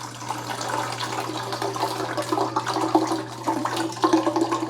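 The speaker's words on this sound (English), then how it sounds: "I'm gonna pour the entire contents of this in there." Descaling solution pours from its container into the empty water reservoir of a Keurig K-Supreme Plus Smart coffee maker, a steady splashing, gurgling liquid stream running close and continuous over a low electrical hum.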